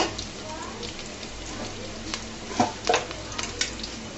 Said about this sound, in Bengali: কালো জিরাটা অবশ্য শাক ভাজার মধ্যে দিবা